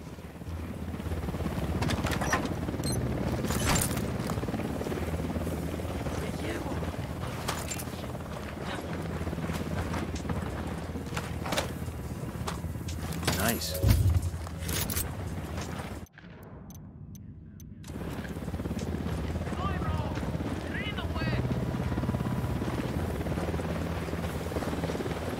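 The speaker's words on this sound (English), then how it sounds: "Hit the dirt, helicopter." Helicopter in the video game Ghost Recon Wildlands, a steady loud rotor drone with thumping low end filling the scene, cut briefly by a sharp burst and a short drop before the rumble resumes.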